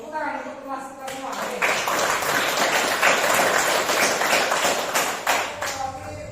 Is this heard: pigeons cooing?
no